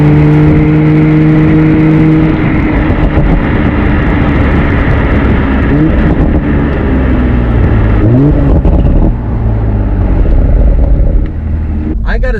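Engine and road drone from a 2020 Toyota Supra while driving, a loud continuous hum with steady tonal whine that shifts pitch midway as the car changes speed, a brief drop near the end.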